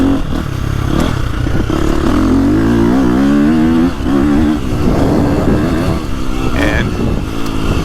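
A 2025 KTM 350XCF dirt bike engine revs hard and close, its pitch rising and falling through several surges while someone talks over it.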